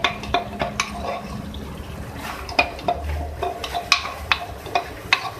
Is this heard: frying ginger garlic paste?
yes